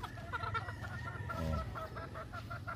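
Chickens at a gamefowl breeding farm in the Philippines cluck in short, repeated calls close by, with a steady murmur of other birds and farm noise behind them.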